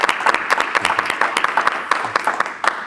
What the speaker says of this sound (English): Can we give Lance a round of applause?